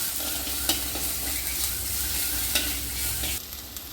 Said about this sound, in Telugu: ముందుగా అల్లం వెల్లుల్లి పేస్ట్ వేయించుకొని